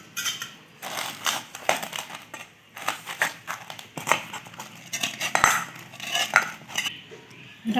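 Paratha dough, mixed with white oil and a little water, is kneaded by hand in a bowl, giving irregular squishing, pressing and rustling handling sounds up close with occasional clinks, and no talking.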